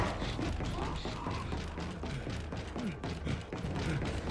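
A breached chamber door mechanism grinds open in the Gears 5 video game, a rough continuous mechanical creaking and rumble with clanking pulses throughout, fairly quiet, no one speaking.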